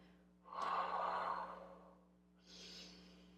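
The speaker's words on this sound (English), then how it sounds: "Breathing out" Audible breathing during a Pilates workout, a long exhale lasting about a second followed by a shorter, softer breath in, alone over a steady low hum.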